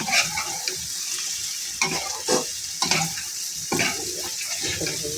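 Mixed vegetables with turmeric frying in a pan, a constant sizzle broken by several scraping stirs at irregular intervals, close and moderately loud.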